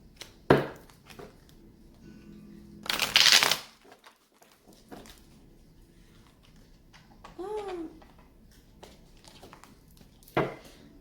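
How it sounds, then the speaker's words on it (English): Tarot cards riffled and shuffled in a few brisk bursts, close up, with scattered handling noises and quiet pauses between. "So let's do 2 more shuffles for the collective."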